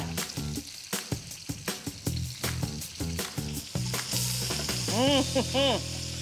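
Sliced onions and vegetables with salt sizzle in a pan, a steady frying hiss under repeated scraping stir strokes and clinks, with brief sung or hummed tones near the end.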